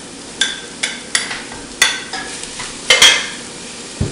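Sausage and a large caramelized onion fry in a pan for chili, a steady low sizzle with a few sharp utensil clicks and scrapes as the food is stirred.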